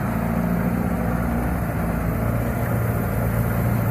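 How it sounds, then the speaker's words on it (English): Marine engine of a 1976 30-foot Pearson sailboat idling steadily, a loud, continuous low rumble with an even throb that holds unchanged from start to finish. "Got the engine running."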